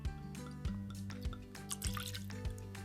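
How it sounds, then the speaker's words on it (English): Two ounces of bourbon poured into a glass for an Old Fashioned cocktail, a soft trickling splash with small drips and glugs, close and quiet with no talking. "Now I'm gonna be adding 2 ounces of this Valencia bourbon."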